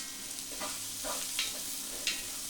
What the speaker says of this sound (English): So the only thing that goes in to start is just this oil that's now nice and hot. And I'm going to add my onion